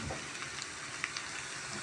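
Umaç soup bubbles in a pan with a steady sizzling boil, continuous and close, with a few soft clinks of a utensil.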